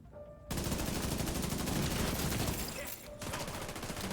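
Sustained rapid automatic-rifle fire in the video game The Division 2, a dense continuous burst that breaks off briefly and resumes, loud and close.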